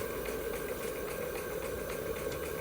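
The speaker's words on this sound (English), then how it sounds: "the engine's still running along beautifully well" A Stuart model beam engine running slowly on steam, giving a steady, even mechanical hum with faint regular ticking and rattle, continuous and close throughout.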